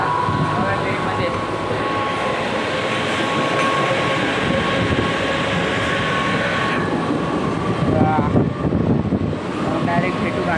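Inside a moving passenger train, a loud, steady rumble of wheels and carriage fills the whole stretch, with a faint whine running through and a rougher, clattering patch toward the end.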